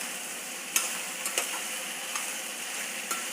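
Sliced okra sautéing in hot oil in a pan, a steady sizzle broken by a few sharp scraping clicks as a spoon stirs it.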